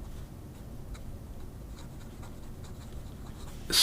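A fine, dry No 8 steel nib on a fountain pen scratches across paper in a continuous close, quiet scraping with rhythmic strokes, ending in a sudden louder noise.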